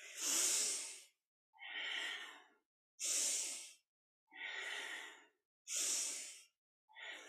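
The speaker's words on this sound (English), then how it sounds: "Inhaling forward and around, exhaling back and around as you hold onto the knees." Deep rhythmic breathing during a Sufi grind yoga exercise, with long, even inhales and exhales alternating in a steady cycle, each breath close and clearly audible with short pauses between them.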